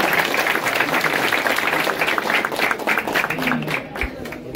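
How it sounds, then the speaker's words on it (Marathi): A crowd gives loud, sustained applause at the opening of a Dahi Handi Govinda troupe event, steady clapping throughout with voices mixed in. "त्यांच्यासाठी पण एकदा जोरदार टाळ्या वाजूया."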